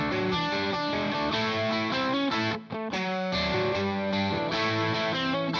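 Bright Gretsch electric guitar played high on the neck, double-tracked and panned hard left and right with a wide, shimmering sound, chords ringing continuously with a brief dropout midway.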